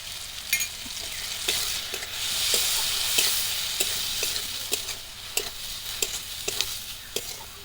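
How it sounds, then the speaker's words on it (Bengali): Tomato and onion frying in a pan for a fish curry, a bright steady sizzle punctuated by repeated sharp scrapes and clicks of a spatula stirring at a regular pace, no voices. "টমেটো আর পেঁয়াজটা একটু ভালো করে নরম করে"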